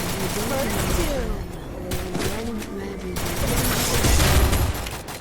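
Rapid gunfire in a pistol-focused mobile shooting game, dense bursts of shots crackling over continuous game noise, with someone talking over the action throughout.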